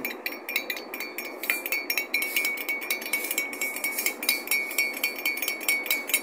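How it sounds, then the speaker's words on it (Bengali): A spoon stirs tea in a cup, giving rapid, continuous close clinks of metal against the cup rim in a fast steady rhythm with no one speaking. "সুন্দর করে নেড়ে নেবেন, সুন্দর করে লাড়বেন যাতে আপনি খেতে পারেন।"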